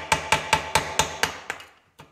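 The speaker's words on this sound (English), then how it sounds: "I'm just getting a flathead screwdriver in here, my little hammer" A small hammer taps a flathead screwdriver to shear pins off the back of a Singer 66 sewing machine part: eight sharp, close metallic strikes in a steady rhythm, the last few growing softer.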